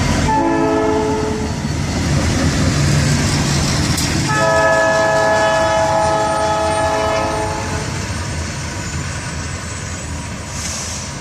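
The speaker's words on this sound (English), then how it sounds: "Geometry train, there it is." A slow four-car Norfolk Southern geometry train rolls past on the FEC line in Hialeah, Florida, its horn sounding in long sustained blasts over steady rumbling wheel and rail noise close by.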